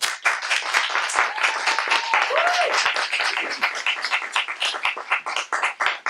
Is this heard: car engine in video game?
no